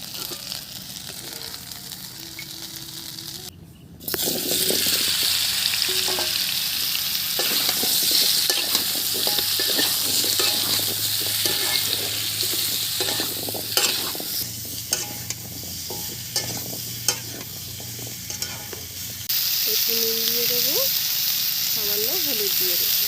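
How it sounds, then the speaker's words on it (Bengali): Shrimp fry in a wok and are stirred, giving a loud continuous sizzle broken by repeated scraping and clanking strokes of the utensil, with a brief lull early on. "একটু কড়াই নেড়ে নেব যাতে কাঁচা গন্ধটা চলে যায়"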